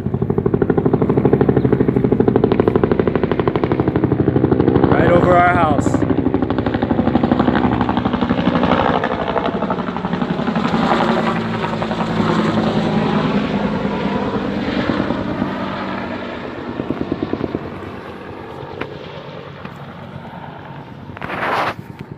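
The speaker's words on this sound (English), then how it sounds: "We got choppers coming right over our house." Low-flying helicopters pass over a house in Melbourne, Florida, a loud, continuous rotor and engine roar that dominates throughout with shifting tones as they move overhead.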